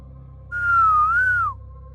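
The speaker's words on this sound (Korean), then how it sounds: "막 잠이 들려는 찰나에 들리는 휘바람 소리에 난 깜짝 놀라서 눈을 떴다." A single clear, drawn-out whistle rises and falls in a smooth wavering tone for about a second in a quiet room, eerie and alone.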